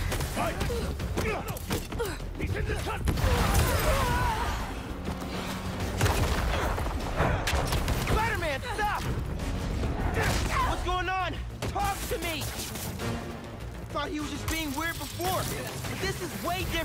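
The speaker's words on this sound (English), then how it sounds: "this guy's just shooting me" Enemy gunfire in Spider-Man 2 rattles in dense, continuous bursts with mechanical clanks and thuds underneath, while someone talks throughout over the busy combat noise.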